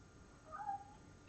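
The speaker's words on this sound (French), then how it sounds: "il y a Missou qui arrête pas de miauler" Indoor house cat meowing: a single faint, drawn-out meow rising briefly above steady low background noise.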